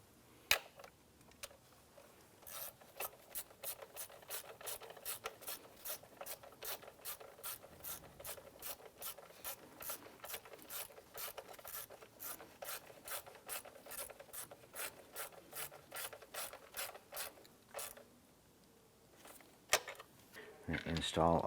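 A ratchet wrench snugs down bolts on a crankshaft position sensor of a 2001-2005 Honda Civic, a rapid, even series of close clicks lasting many seconds before stopping, followed by a few clanks.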